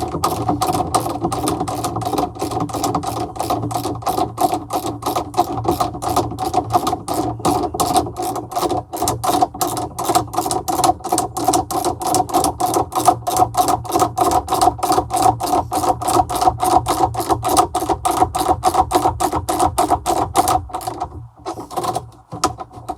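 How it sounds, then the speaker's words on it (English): A ratchet wrench tightens a nut while a RotoKAP is installed on a Can-Am Defender side-by-side, giving a long run of fast, evenly spaced loud clicks that stop briefly near the end. "the reason why I recommend using a ratchet wrench is because the area to get in to tighten it down is actually so small"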